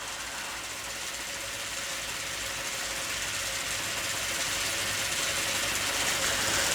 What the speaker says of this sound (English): If you happen to have a reasonably powerful model steam engine, here's something else you can drive with it.